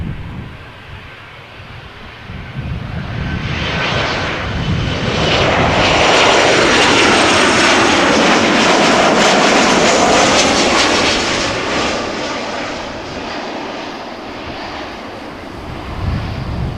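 An ITA airliner from Milan arrives at Amsterdam Schiphol Airport on a summer evening, its engine roar swelling from a distant hum into a loud, broad rush overhead, then slowly fading away.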